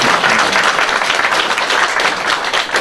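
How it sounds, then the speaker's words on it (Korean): Dense, sustained applause from an audience at a political campaign launch event in Suncheon, steady and loud throughout with no speech over it. "뜨거운 박수로 격려드립니다."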